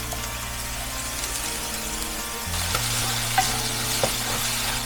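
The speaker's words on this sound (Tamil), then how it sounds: "இங்கே கடுகு பொரிஞ்சிருச்சு." Mustard seeds crackle and splutter in hot oil in a home kitchen pan, a steady close sizzle that grows louder partway through, with a few sharper pops on top.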